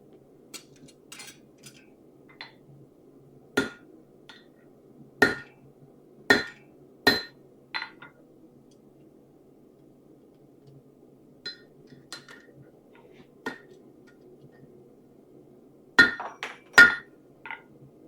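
Sharp metallic hammer strikes ring out as rivets are set into a metal trivet, landing in irregular clusters of single blows with quiet gaps between them, close and clear over faint background hum.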